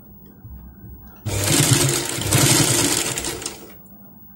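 A sewing machine stitches a cloth baby diaper, starting abruptly into a loud, close, rapid whirring run of about two and a half seconds before stopping, with quieter handling sounds before and after.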